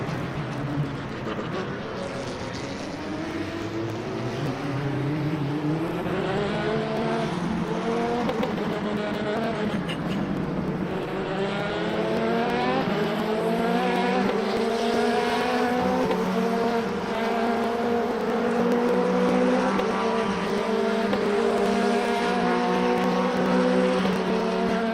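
Race cars roar together in Le Mans Ultimate, a pack of loud engines revving and shifting through gears, their pitch sweeping up and down constantly, close and sustained with no break.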